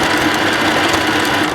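A sewing machine zigzag-stitches a stretchy t-shirt onto a skirt, running as a steady, loud, continuous whir close up with no pauses and no talking.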